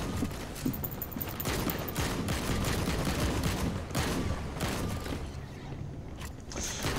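Gunfire in the battle royale video game The Cycle: dense, continuous bursts of shots and mechanical clatter, loud and close, filling the whole stretch without pause.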